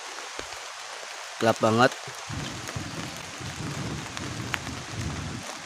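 Heavy storm rain pours steadily on a tent at a camp, a continuous close patter broken by a brief spoken remark.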